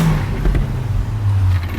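VW Caddy van fitted with an Audi 2.5 litre turbo petrol engine, front-wheel drive, accelerating hard on a private road; a loud, close engine drone with rising pitch and no talk.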